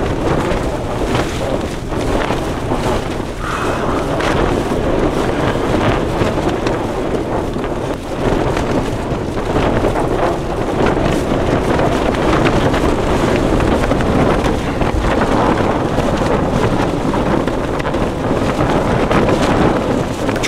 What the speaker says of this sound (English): The wind is absolutely brutal.